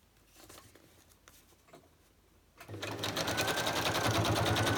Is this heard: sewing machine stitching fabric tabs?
yes